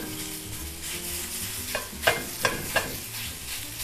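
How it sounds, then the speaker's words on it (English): Beef and pork browning in a hot pan over medium heat for empanada filling, with steady sizzling and a few sharp scraping stirs near the end; a voice says one short word. "So I'm going to start out by just browning this beef and pork."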